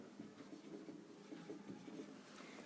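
A pen writes on paper while a math problem is worked out, giving a soft, steady scratching with small rhythmic strokes, quiet and close, alone without talk.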